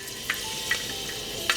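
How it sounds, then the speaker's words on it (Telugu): Half a teaspoon of fenugreek seeds frying in lightly heated oil for a crab curry, a steady soft sizzle with a few faint pops, heard up close with no talk. "సో లైట్ గా హీట్ అయ్యాక మెంతులు ఒక 1/2 టీ స్పూన్ వేసుకొని జస్ట్ ఒక 5 సెకండ్లు ఫ్రై అయ్యాక"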